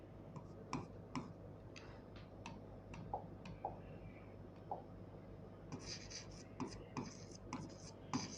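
Pen writing a maths statement on paper, a run of quick, faint ticking strokes and scratches in an irregular rhythm, close by and quiet, with brighter scratching toward the end.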